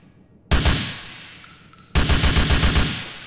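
Gunfire in GTA IV aimed at crates: one sharp close shot with a ringing tail, then a rapid burst of repeated shots, loud and without talk.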